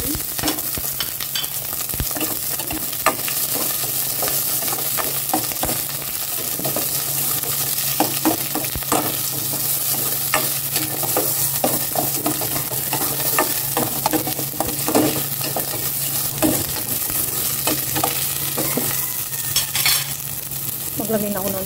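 Ginger, onion and garlic sauté in a hot pan, a steady sizzle broken by repeated scraping and stirring strokes, close and continuous, with no talk.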